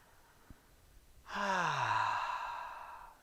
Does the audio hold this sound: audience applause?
no